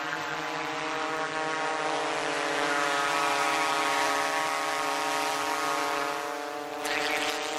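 Drone hovering and flying over an accident scene for reconstruction mapping, a continuous, steady propeller whine and buzz close by throughout, without speech.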